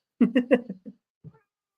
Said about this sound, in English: my cat's crying